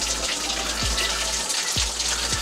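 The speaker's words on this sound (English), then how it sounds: "I'm just gonna fill that 5 gallon bucket up" Water gushes steadily from a shower faucet into a 5 gallon bucket, a continuous loud hiss and splash with a few low knocks and thumps.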